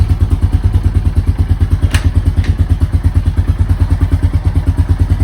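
A Honda Foreman ATV engine running while driving, a loud, close, steady rapid thumping exhaust pulse with a brief clatter partway through, no voices.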